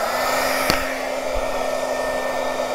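Heat tool blowing steadily while drying embossed craft dangles, a continuous close whirring hiss with a constant hum throughout and one small click partway.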